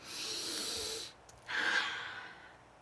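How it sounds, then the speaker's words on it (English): Two long, breathy inhalations through the nose, one after another with a short pause between, close to the microphone. "Breathe in through your nose."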